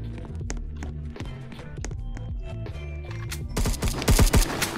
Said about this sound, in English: You can kill them if they shoot each other.